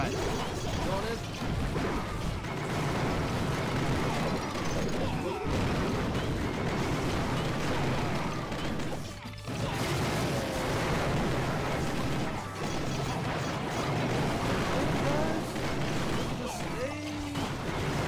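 Mortar fire and explosions in the mobile strategy game Clash of Clans, loud dense crashing and booming bursts that repeat over a steady game soundtrack, with a voice talking over them.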